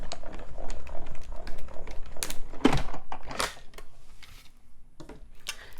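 A card stock piece in a 3D embossing folder with a gray plate is cranked through a manual embossing machine: dense clicking and ratcheting from the hand crank, with a sharp crunch midway, then quieter handling noises.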